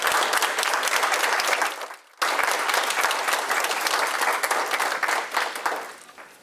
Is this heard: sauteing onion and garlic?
no